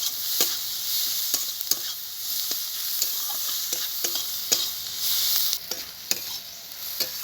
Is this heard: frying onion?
yes